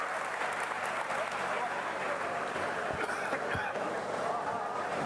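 A large outdoor crowd at a political rally in Meham, Haryana claps continuously in a broad, rumbling wave, with a couple of sharper thumps partway through and crowd murmur underneath.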